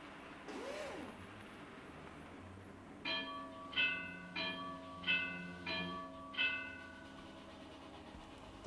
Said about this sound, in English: The system of bells you hear is typical of the Swiss railway scene, and it's used as a warning of the departure of trains.